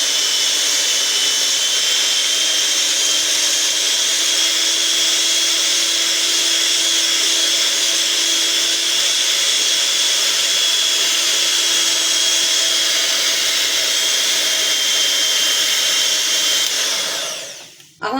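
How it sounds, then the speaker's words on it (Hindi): An electric beater whips egg whites for a vanilla sponge cake in a steady, loud, continuous whir with no talking, then cuts off abruptly near the end. "अब मैं बीटर से फेंटूंगी"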